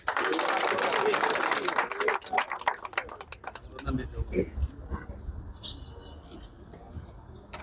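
Dense crowd applause fills the first few seconds, then thins into scattered claps and murmurs from a large audience.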